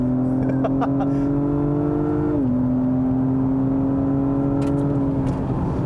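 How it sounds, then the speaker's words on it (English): Acura TLX Type S at full throttle on a race track, its engine holding a steady loud drone with a brief pitch drop at a gear change, close and continuous, while someone talks over it. "A little bit of understeer there, full throttle here."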